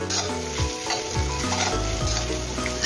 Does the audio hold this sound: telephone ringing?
no